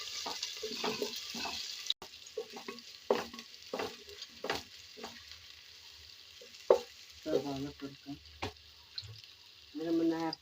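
A small sliced onion fries in a pan, heard as a soft sizzle broken by repeated scraping and stirring clatters, close and fairly quiet.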